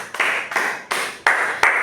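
A small class claps in five separate bursts, each a short flurry of hands that decays quickly before the next begins, close and fairly loud in a room.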